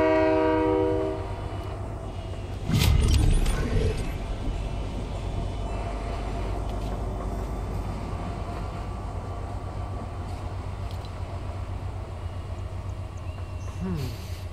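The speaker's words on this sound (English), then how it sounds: "Train coming." Train passing in the video game Fortnite, winter edition: a horn blast at the start, then a loud rumbling rush and rattling as it goes by, continuing steadily with faint clatter to the end.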